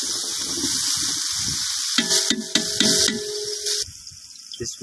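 Half a kilo of onions sizzling in a generous amount of hot ghee for chicken pulao, a steady close frying hiss with brief clinks and stirring sounds.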